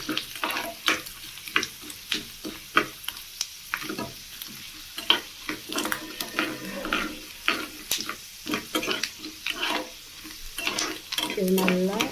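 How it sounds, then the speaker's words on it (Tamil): Chana dal, urad dal and peanuts fry in hot oil with a steady sizzle while a spoon stirs and scrapes the pan in quick repeated strokes, close and loud throughout. "இதில் வந்துட்டு கடலைப்பருப்பு, உளுந்தப்பருப்பு, வேர்க்கடலை இது மூணையும் போட்டு ஃப்ரை பண்ணிக்கிறேன்."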